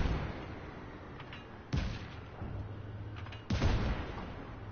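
Tank cannon fire in Just Cause 3, two heavy booming shots a couple of seconds apart, each with a rumbling decay over a steady engine drone.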